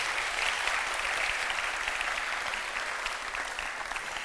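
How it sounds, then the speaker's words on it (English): Steady, full applause from a demo day crowd cheering a panel of 45 jurors, dense overlapping claps holding an even level throughout with no talking on top. "Applause for the jury, Applause, right?"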